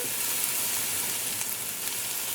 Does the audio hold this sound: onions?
yes